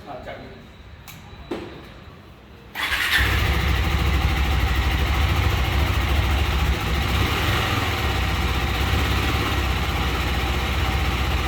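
A motorcycle started with a key: a few quiet clicks, then the engine catches and settles into a loud, steady idle close by that carries to the end.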